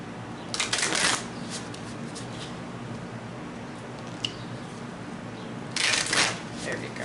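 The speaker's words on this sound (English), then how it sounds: "I just want to shuffle this and make sure that there's no more any previous readings or anything on them." Tarot cards being shuffled by hand, two short riffling bursts at the start and end with a quiet stretch and a faint click between, fairly close and alone.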